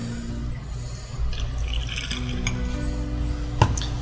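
Lemonade poured into an Irish Trash Can cocktail of vodka, gin, rum, peach schnapps and blue curaçao, giving a close liquid trickle and splashing with a sharp clink near the end.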